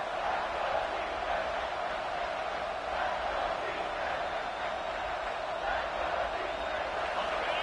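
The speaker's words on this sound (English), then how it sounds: "And the crowd coming to life here, trying to help this defense down in the red zone." A stadium crowd in a football video game roars steadily throughout as the defense holds in the red zone, a dense, unbroken wash of cheering with no distinct voices standing out.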